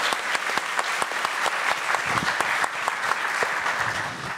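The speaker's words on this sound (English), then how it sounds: "a hand of applause for our panelists" At a convening on public interest technology, a conference audience applauds a keynote panel. The clapping is steady, loud and close throughout, with distinct individual claps rising above the general wash.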